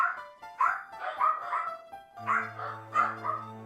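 Several dogs bark excitedly in a burst of repeated yaps and barks off in the background, rising over a steady electronic drone from game music.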